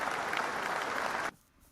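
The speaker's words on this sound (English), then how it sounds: "I'm giving applause for all this" Short burst of dense, loud applause that stops abruptly after about a second, leaving near silence.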